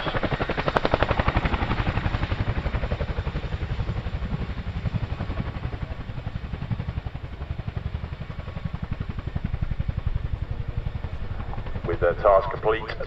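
Twin-rotor Chinook helicopter hovering at the Cosford airshow during a troop and artillery recovery display, a loud continuous rotor thump and engine roar filling the whole span, with a commentator's voice over it.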